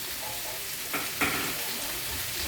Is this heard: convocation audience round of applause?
no